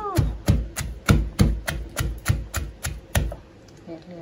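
A pestle pounds banana salad ingredients, with fish sauce added, in a mortar. It strikes about ten times at an even, brisk rhythm, each thud loud and close, before stopping near the end.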